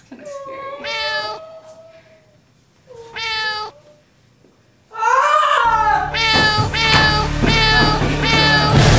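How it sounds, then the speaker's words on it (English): A cat meows a few times with drawn-out, rising and falling calls separated by pauses, then lets out louder, overlapping meows over a steady background hum. "Meow!"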